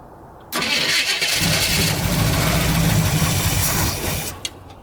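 A 1973 Chevy Camaro split-bumper, after sitting at least ten years, cranks briefly and then cold starts into a loud, close, steady roar that holds for several seconds before easing off near the end.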